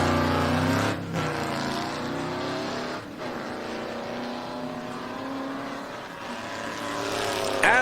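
A loud drag racing car engine roars steadily, its pitch shifting as the car accelerates hard down the drag strip.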